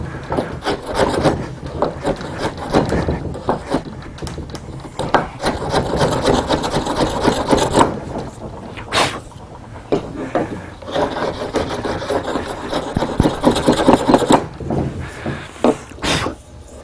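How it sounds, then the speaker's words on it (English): A wood gouge scraping and rubbing inside a carved hole, giving repeated rasping strokes in uneven bursts with short pauses, close and fairly loud. "go back through with your gouge and clean that out so that it doesn't clog your hole"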